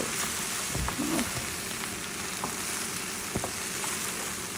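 Starter of capsicum and other ingredients frying in a pan, a steady broadband sizzle running throughout with a few soft stirring knocks, close and moderately loud.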